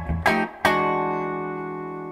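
Electric guitar plays a short blues turnaround lick: two quick picked notes, then a final chord that rings out and slowly decays, alone and without talk.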